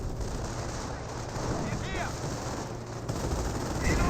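An anti-tank gun round bounces during a Company of Heroes battle, heard amid dense, continuous gunfire and explosion rumble, with a brief whistling ricochet sweep standing out in the middle of the din.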